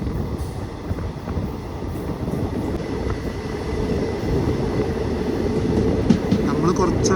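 A Nilambur–Palakkad passenger train running on the rails as it slows near Shoranur, with a steady loud rumble and faint wheel clatter heard from inside the carriage.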